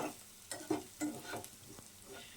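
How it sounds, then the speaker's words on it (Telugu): Onions frying in a pan until brown for pepper chicken: a faint, soft sizzle punctuated by several spatula scrapes and stirs at an irregular pace. "నెక్స్ట్ ఈ ఆనియన్స్ మనకి బ్రౌన్ కలర్ వచ్చేలాగా వేయించాలి"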